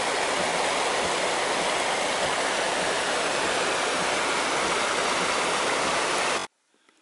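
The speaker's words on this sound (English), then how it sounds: "to see the little bubbling brook" A small bubbling brook runs through a shallow ford, a steady broadband rush of flowing water close by, continuous and even, cutting off abruptly near the end.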